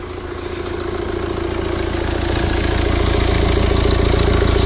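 A Mini Countryman engine with a coolant leak idles close by just after start-up, its noisy timing chain adding a rattling clatter to a steady hum that swells slightly louder as it runs.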